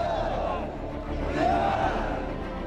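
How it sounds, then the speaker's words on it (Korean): Marine Corps trainees shouting together during a pre-dawn log drill on a parade ground, a continuous massed roar of many voices, loud and strained, with a narrator's voice over it. "어둠이 채 가시지 않은 연병장에 훈련병들의 함성 소리가 가득합니다"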